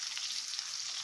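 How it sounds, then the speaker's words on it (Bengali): Tomatoes and spices frying together in a pan for a soybean keema, a soft, continuous sizzle heard alone and at low volume. "তারপরে দিচ্ছি টমেটো, সব দিয়ে ভেজে নেব।"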